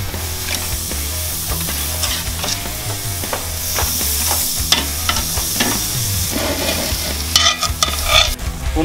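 Ribeye steaks cook over a carne asada grill with a loud, continuous sizzle, and sharp metallic scrapes and clinks of tongs or a spatula come through repeatedly.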